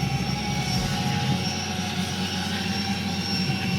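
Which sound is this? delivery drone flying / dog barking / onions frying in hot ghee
delivery drone flying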